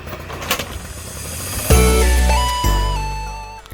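A car engine starts up for a ride through Sturgeon Bay, catching with a loud low rumble about halfway in and settling into a steady idle, with a second surge of revving near the end.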